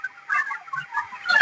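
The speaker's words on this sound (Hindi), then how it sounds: "तो यह जो मुर्गी है" Broiler chickens raised for meat on a poultry farm in Nalanda, Bihar, give short clucks and chirps in a few quick bursts, close and fairly clear, with no talking.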